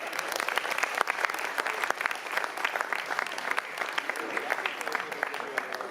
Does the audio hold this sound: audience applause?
yes